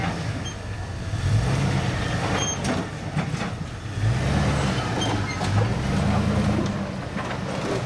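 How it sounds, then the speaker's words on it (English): Utility trailer towed behind a Chevrolet Z71 pickup on a rough desert canyon trail, with a steady low rumble of rolling and scraping that swells and fades, continuous and fairly loud throughout. "Sounds like the trailer is rubbing."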